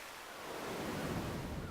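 Ocean waves wash around a lighthouse island, a continuous surf roar swelling gradually, mixed with wind buffeting the microphone, close and steady with no voices.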